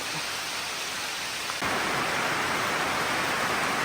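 A soft hiss suddenly jumps into a loud, dense wash of heavy rain pouring down steadily, with no voices.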